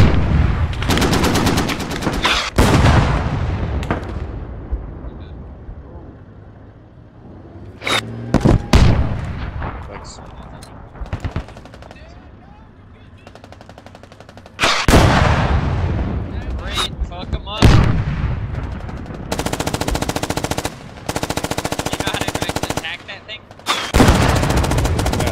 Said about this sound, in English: Suppressing fire for them.